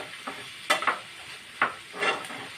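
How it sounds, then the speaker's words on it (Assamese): Tomatoes frying in a pan for paneer gravy, a soft continuous sizzle broken by several scraping stirs of a spatula against the pan, close and unaccompanied by speech. "এতিয়া মই এইখিনি 5 মিনিটমান সময় ভাজি ল'ম।"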